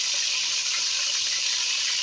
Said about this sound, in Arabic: هنا بنات بديت اقلي الدجاج